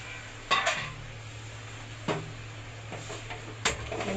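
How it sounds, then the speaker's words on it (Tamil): Chicken is added to a cooking pan and stirred, giving three distinct utensil clatters and scrapes against the pan over a soft background hum, with no talking. "இப்போ சிக்கனை போடுறாங்க."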